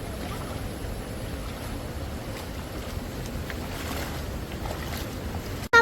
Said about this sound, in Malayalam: നേരത്തെ കണ്ട വെള്ളച്ചാട്ടത്തിന്റെ ബാക്കിയാണിത്. ഇതിങ്ങനെ അവിടെ വരെ പോവും.